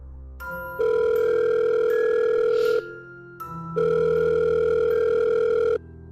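A telephone dial tone sounds in two long steady bursts separated by a short gap, clear and close with no talking.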